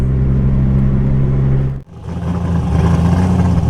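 A car engine at a car meet runs with a steady low rumble and hum, dipping briefly near the middle before picking up again; close and loud, no talking.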